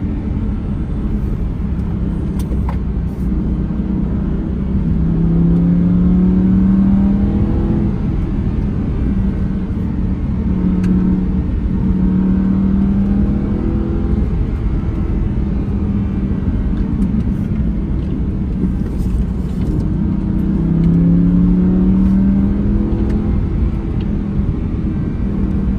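Audi R8 in sport and manual mode, pulling hard in third gear, with a deep, continuous engine rumble whose pitch climbs in repeated surges, heard steadily from inside the car with no talk.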